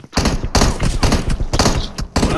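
Gunfire in the PUBG video game: loud, dense bursts of rapid shots rattle almost without pause, broken by a few short gaps, close and forceful throughout.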